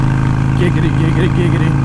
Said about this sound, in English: I like that D-cell pop, man. That's nice. It's got that throaty blah